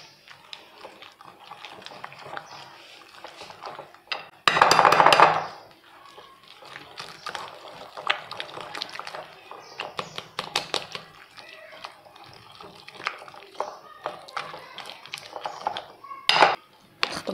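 A ladle scrapes and knocks against a bowl while butter and other ingredients are mixed, giving irregular clacks and scrapes, with one louder burst of clattering early on; a voice speaks now and then between the strokes.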